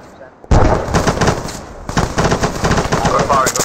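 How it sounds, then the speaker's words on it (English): Dense automatic gunfire in the military shooter ArmA3 erupts suddenly after a quiet start, rapid overlapping bursts continuing loud and close to the end. "We're firing, keep the firing up."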